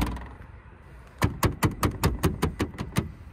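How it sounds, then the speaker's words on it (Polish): The tailgate of a 2023 Toyota Yaris 1.5 Hybrid GR Sport shuts and its mounted license plate rattles in a quick, evenly spaced series of about ten sharp, loud close taps after a quiet start. "tablica rejestracyjna zamocowana jest na klapie bagażnika, więc przy każdym zamykaniu słyszymy to"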